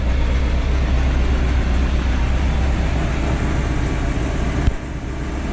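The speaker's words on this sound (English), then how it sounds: "you may notice that the dump truck is running" A 1988 Chevy R30 dump truck engine idles steadily with a deep, constant low rumble, then the sound drops off abruptly near the end.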